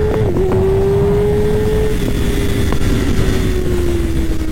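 A 2024 Kawasaki Ninja ZX-6R motorcycle engine held at about 8000 rpm gives a loud, close, steady drone whose pitch sags slowly over several seconds, with no one talking.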